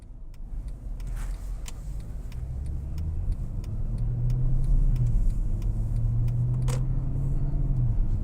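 A 2010 Mercedes-Benz E63 AMG accelerates on a test drive, its engine note rising as a low droning rumble heard from inside the cabin, with faint clicks and rattles over it.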